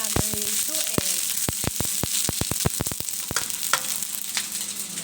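Fried rice with two eggs frying in a pan: steady bright sizzling with a rapid run of sharp spatula taps and scrapes against the pan, close and loud, faint voice in the background.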